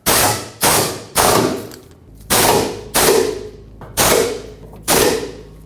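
Impact wrench rattling drive shaft bolts snug on a 2009-2014 Ford F-150, in seven short loud bursts of about half a second each, evenly spaced with brief gaps between them.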